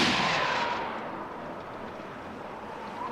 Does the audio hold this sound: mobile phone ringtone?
no